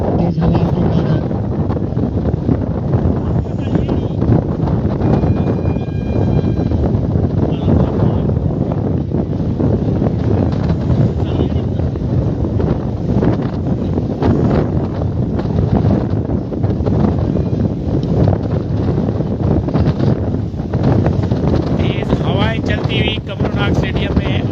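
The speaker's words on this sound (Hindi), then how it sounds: "काफी तेज हवाएं चलती हुई" Strong wind buffets a cricket stadium during a stoppage in play, roaring steadily and loudly across the microphone while a commentator talks throughout.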